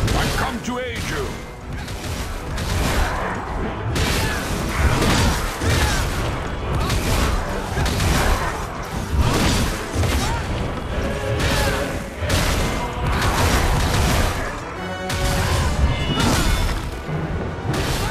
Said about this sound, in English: The cannons are ready!